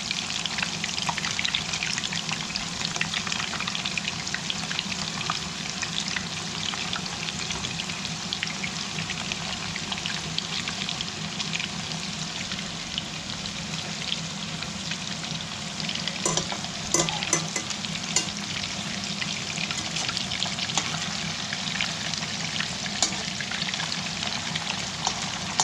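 Meatballs sizzle steadily in a hot pan, a continuous close frying crackle with a few brief clinks of moving them around midway, no voices.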